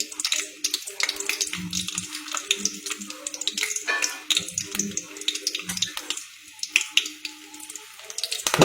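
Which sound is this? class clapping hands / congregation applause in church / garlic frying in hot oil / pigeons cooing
garlic frying in hot oil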